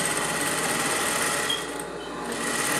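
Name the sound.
sewing machine stitching fabric appliqué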